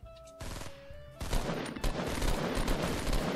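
Gunfire in Fortnite comes as a dense, loud rapid volley of shots that builds after a brief lighter start and continues steadily to the end.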